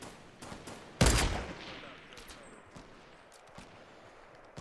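Gunfire in Fortnite during a squad match: one loud broadband shot or short burst stands out, followed by quieter scattered shots and game ambience.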